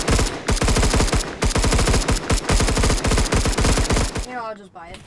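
Rapid automatic gunfire in the Roblox video game, loud dense bursts of repeated shots filling most of the moment before stopping abruptly.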